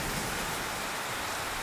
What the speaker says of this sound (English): The thunderstorm would pretty much continue all the way through sunrise and even into part of the late morning as well